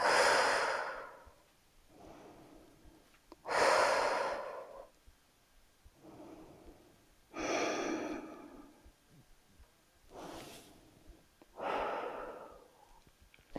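Slow, deliberate breathing during seated chair yoga: about six close, airy breaths in and out, each swelling and fading with short quiet gaps between.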